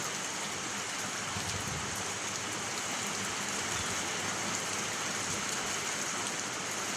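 Rain drumming on a corrugated tin roof during a day of steady downpour, a dense continuous hiss and patter that stays even and close throughout with no voices.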